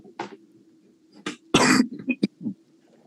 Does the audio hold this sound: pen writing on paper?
no